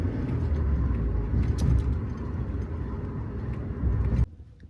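A Suzuki Jimny camper drives on a mountain road in the Bhairav valley toward Gangotri. A steady engine and road rumble fills the inside of the cabin, then it cuts off abruptly near the end.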